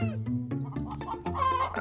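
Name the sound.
chickens clucking in a video game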